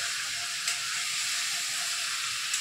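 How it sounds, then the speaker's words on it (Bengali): Potato, stem and eggplant pieces fry in a pan as spices are mixed in, a steady close sizzle with faint scraping touches and no talk. "এবার আমি এগুলোকে সবজির সাথে ভালো করে মশলাটা মিশিয়ে নেব"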